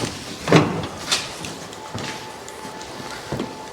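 A squeaking door hinge on a 1955 Chevy groans as the door is worked, with a few louder clunks and a thin sustained squeal at close range.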